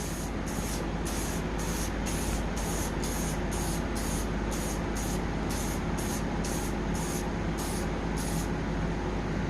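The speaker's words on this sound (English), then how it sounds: "Test a little spray. Make sure I got a good flow." Steady hiss of an aerosol spray paint can running continuously, close by, with a faint rhythmic pulsing in the high hiss and no voices.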